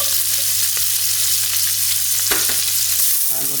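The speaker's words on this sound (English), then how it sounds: "give them a stir, and then quickly add peppers" Peppers sauté in a hot pan with a loud, constant hiss of sizzling oil, punctuated by a few sharp utensil clacks as they are stirred, with no talking.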